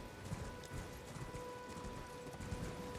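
Horse hooves clip-clopping in the video game Elden Ring, a quick regular patter of hoofbeats at moderate distance, running steadily throughout without talk.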